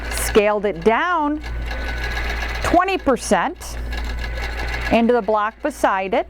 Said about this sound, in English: Does its little locking stitch there.